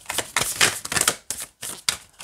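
A tarot card deck is riffled and shuffled by hand in quick bursts, crisp close-up flutters separated by brief pauses, each burst a rapid ripple of cards snapping together.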